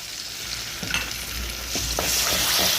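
Garlic and ginger frying in hot oil in a karahi for Balochi karahi, a close, steady sizzle with soft stirring scrapes.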